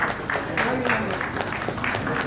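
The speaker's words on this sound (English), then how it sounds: "A huge round of applause, ladies and gentlemen." A Rotary Club meeting hall audience claps in a brief burst of applause, with a quick run of rhythmic claps and a voice mixed in.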